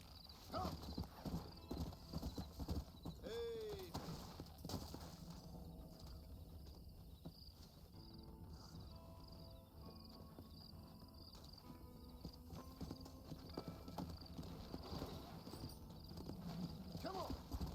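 Horse hooves clip-clop steadily in Red Dead Redemption on PC, with a brief whinny near the start, the rhythmic footfalls running throughout under game ambience and occasional talk.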